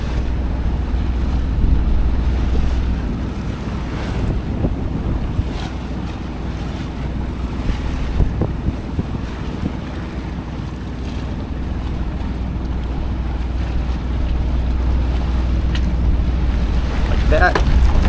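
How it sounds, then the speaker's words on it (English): Sailboat pointed into the wind with the mainsail luffing, a steady rush of wind and water around the hull with faint flutter beneath, continuous for about eighteen seconds and ending in a few sharper knocks. "So I'll wait for the sail to start flapping."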